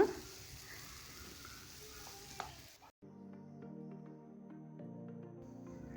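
Tomatoes and ground pepper are stirred in a hot pan, giving a soft sizzle and scraping that stops abruptly halfway and gives way to quiet background music.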